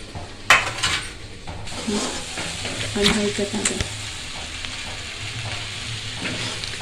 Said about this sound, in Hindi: ये है इलायची और लौंग दोनों डाल हूँ अभी वो मैं तेल में